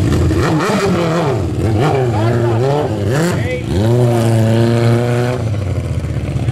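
Motorcycle engines rev hard at the start of a race, a loud, continuous roar with rising and falling pitch sweeps from several machines close by.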